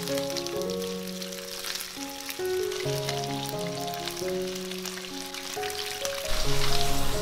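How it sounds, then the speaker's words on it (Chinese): Chicken pieces marinated with salt, starch and peanut oil sizzle steadily in hot oil in a flat frying pan, a continuous crackling hiss under background music. "油温热了，把鸡肉放进来煎"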